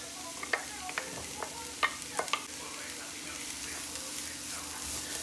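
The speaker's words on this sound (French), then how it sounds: "une fois que l'huile est chaude, eh bien, je mets mes oignons. Et je mets aussi mes pommes de terre" Onions and potatoes go into hot oil and fry with a faint steady sizzle, broken early on by a few sharp clicks and stirring knocks, then settling into a soft continuous crackle with no voices.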